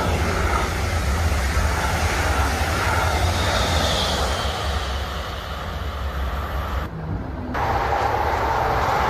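A German high-speed train rushes past with a loud, steady roar and broad wind-like rumble that eases slightly midway before swelling again, heard alone without voices.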